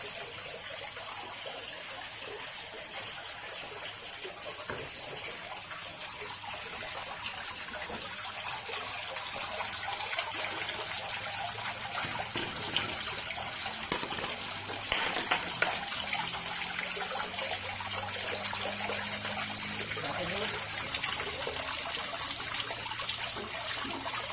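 Steady flowing water from a fish pond while its leak is being dammed off, a continuous trickling, gushing wash that grows slightly louder partway through and carries on without pause.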